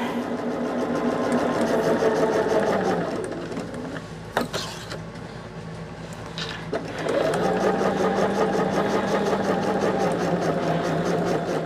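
Sewing machine stitching fabric for a roll-up pillow, a steady close whirring run that pauses midway with a few clicks and handling knocks, then starts up again.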